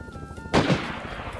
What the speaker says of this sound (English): They're shooting out the highway.